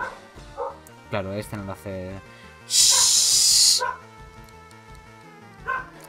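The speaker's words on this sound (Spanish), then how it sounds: "Nada, que el perro no se tranquiliza." A dog in the game Pokémon FireRed gives several short, sharp barks and yips in quick succession, followed by a loud hissing burst, while someone speaks over the game sounds.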